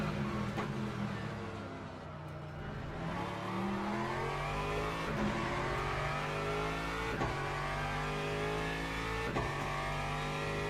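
Aston Martin race car in Le Mans Ultimate at Spa, engine note climbing steadily through gears with rhythmic upshift breaks, loud and continuous, no voices.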